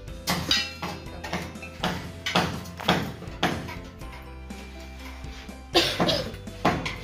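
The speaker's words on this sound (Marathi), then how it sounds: "सगळ्यांनाच थोडा थोडा झालाय खोकला" Several people at home cough in repeated sharp bursts, about a dozen over several seconds, over a steady low background hum while a mixed cabbage, capsicum and onion dry vegetable dish is cooked.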